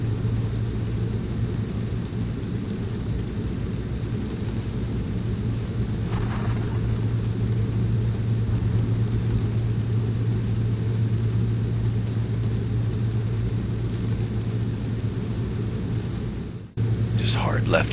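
A Beechcraft B200 twin-turboprop drones steadily from inside the cabin in flight over mountain terrain, a constant low hum with faint voices under it and a brief click near the end.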